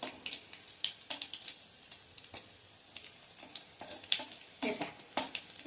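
Green chillies blacken in hot tempering oil for a ridge gourd peel chutney, giving a soft crackling sizzle with irregular sharp pops and spits, quiet and close, with no talking.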